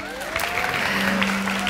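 Audience applause inside a church service, a dense steady wash of clapping from a large congregation, moderately loud and continuous throughout.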